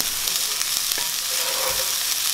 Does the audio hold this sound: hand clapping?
no